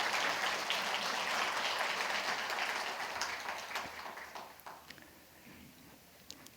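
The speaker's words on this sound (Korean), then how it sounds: "박수 한번 보내주시죠." Audience applause at a Korean rural agriculture award ceremony, a dense wash of clapping from a crowd that swells at first and then gradually thins and fades out.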